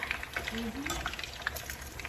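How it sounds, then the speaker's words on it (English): Chicken pieces fry uncoated in hot oil for Haitian fried chicken, giving a steady crackling sizzle with scattered pops, while a voice speaks faintly in the background. "This is how we fry chicken."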